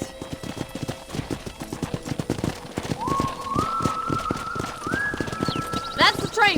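Horse hooves clip-clopping steadily in the Western video game Red Dead Redemption, a close rhythmic clatter running throughout while someone talks over it, with a brief whinny near the end.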